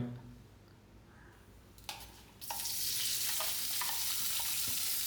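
Coconut oil poured into a pan starts sizzling partway through, going from quiet handling sounds to a loud, steady, close frying hiss that holds to the end.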